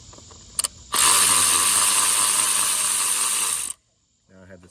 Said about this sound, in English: Now I have this fancy electric ratchet